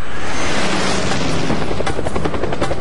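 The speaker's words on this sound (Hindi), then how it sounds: "लुकला में हेलीकॉप्टर्स और प्लेन्स एक ही रनवे पर लैंड और टेक ऑफ करते हैं।" A helicopter at the runway of Lukla airport in Nepal gives a loud, close, steady rotor roar, its rapid blade chop growing more pronounced toward the end.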